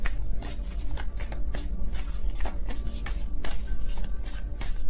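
Tarot cards being shuffled by hand, a steady papery riffle and slide of cards that carries on throughout at close range, with no voice over it.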